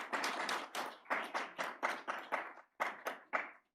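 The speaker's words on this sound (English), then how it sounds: "A big round of applause." Audience at an AI compliance conference gives a round of applause for a speaker, heard as a series of distinct bursts of clapping that rise and fade in quick succession, with no talking.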